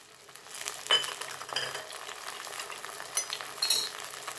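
Browned onions frying in a pan as two tomatoes go in for a green moong dal gravy, making a soft crackling sizzle with scattered stirring scrapes and light metallic clinks, fairly quiet and close.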